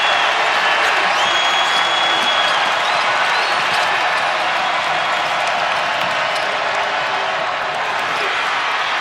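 A delirious basketball arena crowd cheers and roars loudly and continuously during a 2019 VCU vs. LSU game, a dense wall of sound with no clear pauses.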